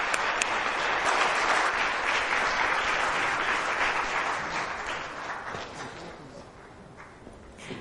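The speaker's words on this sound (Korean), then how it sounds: "큰 박수로 연사분들께 감사를 표했으면 합니다" An audience at a Korean strategy forum claps for the session speakers: a full, steady burst of applause that slowly thins and fades toward the end, with no talk over it.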